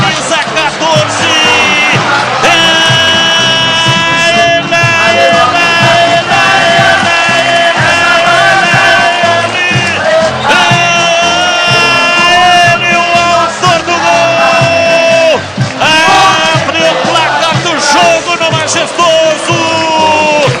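Ponte Preta supporters fill a football stadium against Comercial, a loud, continuous roar of cheering, chanting and shouting voices sustained throughout.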